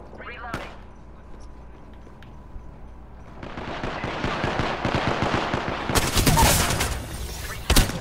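Gunfire in the video game Apex Legends, with a sharp early shot, then a dense rattling burst of rapid fire building louder toward the end, close, with game voice callouts mixed in.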